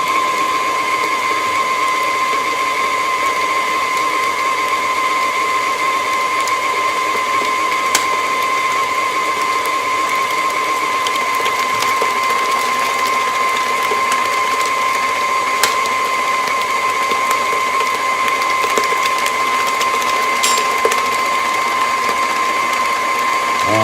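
An electric mixer beats cake batter in a home kitchen, giving a steady, unbroken mechanical whir with a faint rattling texture, close and constant throughout, without talk.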